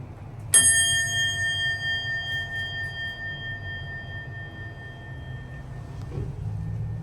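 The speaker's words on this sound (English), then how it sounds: "I'm gonna sample the chime" A Westinghouse hydraulic elevator chime strikes once, loud and bright, then rings on with a long, slowly fading metallic tone over the steady hum of the elevator cab, with no talking.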